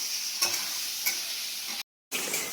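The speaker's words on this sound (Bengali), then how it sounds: "এই যে ডিমগুলো ভাজছি আমি।" Eggs sizzle in hot oil in a wok (karai), a steady close hiss with two quick crackling bursts, broken by a short abrupt gap of silence before the frying resumes.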